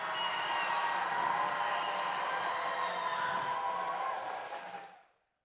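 Crowd cheering for the Red Alliance in a packed robotics competition arena, a sustained dense roar of many voices and whoops that holds steady for several seconds and then drops off abruptly.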